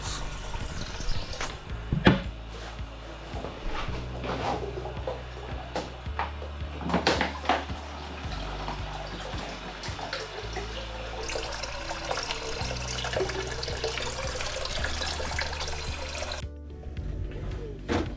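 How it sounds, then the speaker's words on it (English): A bathroom tap runs steadily into water bottles being filled, with bursts of splashing, clunks and handling noises, then the flow cuts off near the end. "I've sneaked into the bathroom to fill up our water bottles"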